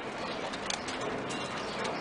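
Pigeons in a loft coo softly over a steady hiss of ambient noise, the calls faint and mingled with light rustling.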